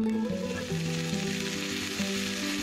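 Steam-fried pork buns sizzling in oil in a covered pan over medium-high heat, a dense steady crackling hiss that continues evenly throughout.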